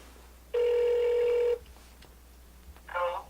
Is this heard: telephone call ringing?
yes